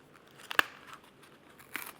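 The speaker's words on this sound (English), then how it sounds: "It's taped tight, so I have to open it up." A tightly taped package holding pantyhose is pried open, with a few sharp close crackles and rips of tape and cardboard separated by quiet gaps, no talk.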